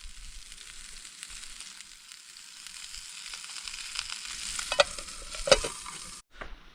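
Broccoli frying in oil in a pan at a backpacking camp, a soft steady sizzle that gradually grows louder, with a few sharp crackling pops and a brief scrape near the end.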